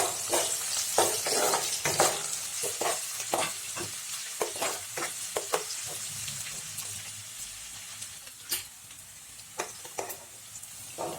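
Two bay leaves, dried chillies, crushed garlic and two green chillies fry in hot oil with a dense crackling sizzle and a rapid series of sharp spoon clicks that thin out toward the end, close by and without talk.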